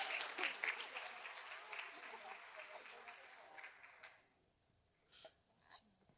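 A church congregation at a family service applauds to the Lord, a dense wash of clapping that is moderately distant and fades after about four seconds, leaving a quieter room with a few scattered sounds.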